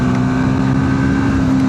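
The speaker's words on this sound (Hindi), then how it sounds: "काफ़ी अच्छा पुल कर रही है बाइक" A Triumph Speed 400 motorcycle with a 349cc single engine pulls steadily under acceleration while being ridden, a loud continuous drone with a strong steady hum and dense wind-and-road noise, close and unbroken throughout.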